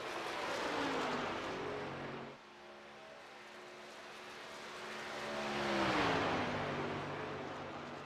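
NASCAR stock car engine in a racing video game at Texas Motor Speedway, a steady high whine that dips briefly, then swells and falls again as the car accelerates past.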